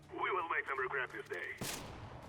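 Players talk over a Counter-Strike: Global Offensive (CS:GO) match, then a single sharp headshot gunshot cracks through once the voices stop.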